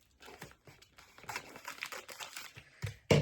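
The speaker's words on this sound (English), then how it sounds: "Switch over to scissors" Scissors snip an X into a plastic oyster mushroom grow bag, giving a run of crisp, irregular crinkling cuts up close, ending in a sharper rustle.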